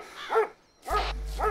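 A dog barking in the military game ArmA 2, three sharp barks spaced apart, fairly close, with a low engine-like hum entering behind the later barks.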